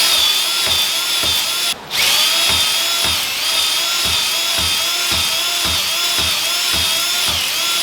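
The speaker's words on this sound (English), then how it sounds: "Dad has a thingamajigger for honing cylinders." A drill-driven hone works inside muddy engine cylinders, a loud, steady whirring grind with a regular rhythmic pulsing, briefly cut off once near the start before running on.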